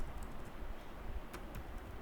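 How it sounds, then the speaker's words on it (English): Keys on a computer keyboard are tapped in a quiet, irregular run of soft clicks over low background noise. "So let's start typing"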